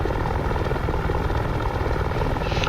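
Helicopter in the DCS flight simulator game: a loud, continuous engine roar with fast rhythmic rotor chop, steady throughout with no talk over it.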